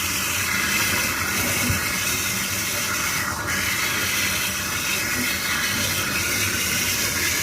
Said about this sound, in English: I'm going to rinse this moss off. Get all the junk rinsed out of it, and get all the duckweed out.